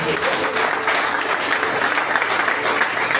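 A church congregation at a spiritual retreat applauds and cheers for Jesus, steady dense clapping with crowd voices filling the whole stretch, loud and continuous without a break.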